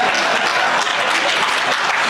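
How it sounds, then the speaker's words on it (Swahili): Audience applause during Deputy President Gachagua's speech at a KTDA induction workshop in Mombasa, a loud, dense burst of many hands clapping in a hall, steady and unbroken for about two seconds with no voice over it. "Naona hapo mpigi makofi."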